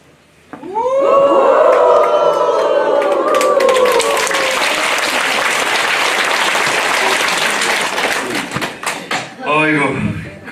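Loud, sustained applause from a seated audience at a lecture for a seniors' college, beginning with a few voices and cheers, then dense clapping for about nine seconds before it fades and trails off.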